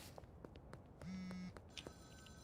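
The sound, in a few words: phone ringing in the video game Schedule I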